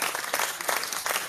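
Applause from a group, a short continuous wash of clapping with slight surges, steady and fairly close throughout.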